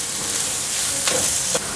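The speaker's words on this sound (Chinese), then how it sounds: "继续翻炒" Continuous close sizzle of carrots and enoki mushrooms stir-frying in a pan, with a couple of sharp scraping strokes as the vegetables are tossed.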